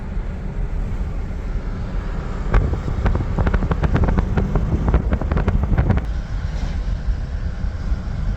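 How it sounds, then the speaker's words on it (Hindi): Strong wind buffets the microphone in a steady low roar, with gusty rumbling and a burst of sharper crackling in the middle, no voices. Outdoors in open green countryside by a lake near Munich, Germany. "तेज़ हवा चल रही है और बहुत ही प्यारा मौसम है"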